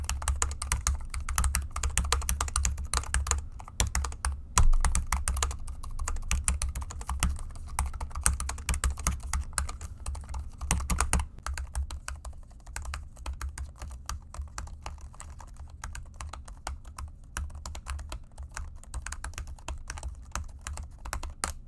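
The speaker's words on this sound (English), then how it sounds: "So let's say I'm pretending to type up a document." Rapid, continuous key clicks from a third-generation butterfly keyboard on a 2018 MacBook Air, quiet and close, with no talking.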